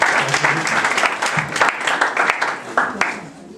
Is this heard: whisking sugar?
no